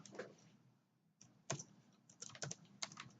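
Keys clatter on a computer keyboard as data is typed into a spreadsheet, a quiet, close run of irregular clicks with a short pause before a few sharper taps.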